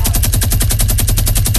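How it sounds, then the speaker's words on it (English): Rapid automatic gunfire in Fortnite, a steady stream of sharp, evenly spaced shots with no pause, loud and close. "Oh, you're shooting at two different people."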